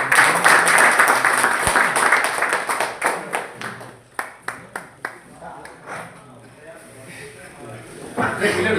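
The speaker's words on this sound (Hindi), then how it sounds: "तालियों के साथ उनका स्वागत किया जाए" An audience at a Keva company health training event applauds to welcome a speaker, starting as a full burst of clapping that thins into a few scattered, separate claps before a voice begins speaking at the close.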